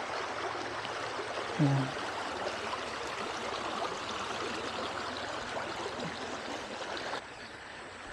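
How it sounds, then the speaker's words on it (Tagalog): A mountain stream at a camping site in Sta. Maria, Laguna flows with a steady broadband rush throughout, and a voice speaks once briefly over it. "Sarap pakinggan ng tubig."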